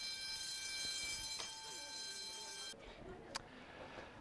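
A fire alarm in a classroom drones with a steady high-pitched buzzing tone that cuts off partway through, leaving quieter room noise and a faint voice.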